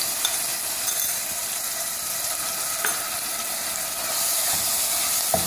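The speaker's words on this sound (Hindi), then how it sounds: "ऑयल हमारा गर्म हो चुका है, उसमें प्याज शामिल करेंगे।" Chopped medium-sized onions sizzle and crackle steadily in hot oil, a close, continuous frying hiss.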